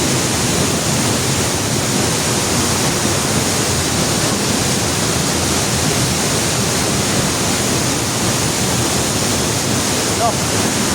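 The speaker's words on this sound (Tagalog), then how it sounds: "Ito yung falls na yun." A waterfall at a barangay falls roars steadily and loudly for the whole stretch, a dense, unbroken rush of water with a wind-like hiss and no voices over it.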